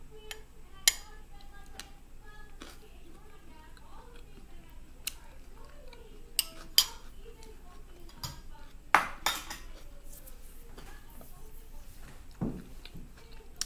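A spoon clinks and scrapes in a bowl of chickpea salad, with scattered sharp taps and scrapes across several seconds and some quiet talk.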